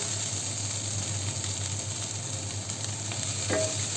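Dried cowpeas in a Thrissur-style stir-fry crackle softly in a pan as they are stirred and mixed, a steady close sizzle under a low hum, with one faint clink near the end and no talk.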